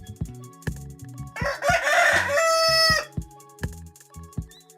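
A rooster crows loudly in a long, rising cock-a-doodle-doo, set against a steady rhythm of sharp percussive beats.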